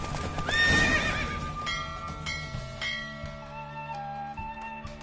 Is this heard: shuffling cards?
no